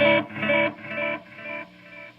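Electric guitar run through a modulation delay whose feedback repeats slowly drift out of tune, four sustained chord swells fading progressively quieter, played alone with no talk.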